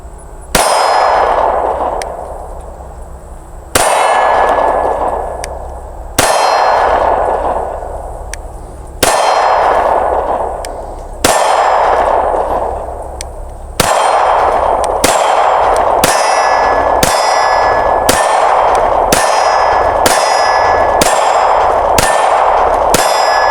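A Smith & Wesson M&P 2.0 Compact pistol fires a 15-round magazine at an outdoor range, with sharp loud shots spaced a few seconds apart at first, then coming faster in a quick string.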